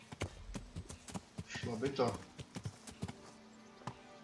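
A horse in a video game clip-clops along in a steady run of sharp hoof taps while someone talks over it in Czech.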